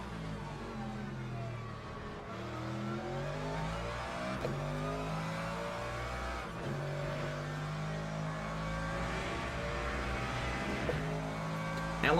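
LMP2 prototype race cars in the sim racing game Le Mans Ultimate, a steady mid-level engine drone with rising and falling revs as gears change, continuous and fairly quiet with no voices.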